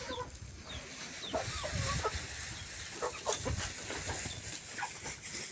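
Pet chickens clucking around their feeder after running out of food, a busy run of close, repeated clucks and short calls over a murky farmyard background, with no talk.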